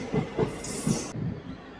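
A Secunderabad–Siddipet DEMU train pulls out of Gundla Pochampally station, its wheels thudding in a rhythmic clatter close by, with a brief high squeal that cuts off partway through.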